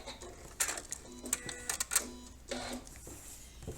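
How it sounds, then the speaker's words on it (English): A sewing machine back stitching along a fabric edge, giving short bursts of fast mechanical needle clatter that run forward, pause and run again, fairly quiet and close. "You can sew to the edge of fabric and then you back stitch. And it goes back and it goes forward."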